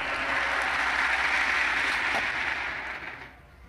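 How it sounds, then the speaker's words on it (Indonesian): A church congregation breaks into broad applause, a dense wash of clapping heard up close that fades out toward the end. "Tepuk tangan dong, tepuk tangan."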